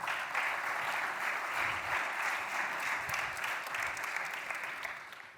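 An audience at a conference talk gives sustained applause for the speakers, a steady wash of clapping that holds even and then tapers off at the end.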